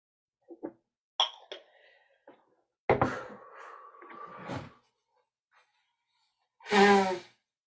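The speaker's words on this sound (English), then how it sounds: "I blow my nose." A person blows their nose with a loud, wet honking burst near the end, preceded by scattered sniffs, breaths and throat sounds, all close and without speech.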